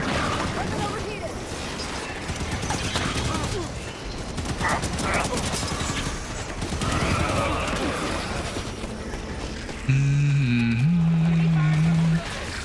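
Rapid bursts of weapon fire ring out in the Halo 5: Guardians video game, mixed with game effects and a tonal in-game sound near the end. Continuous and dense throughout.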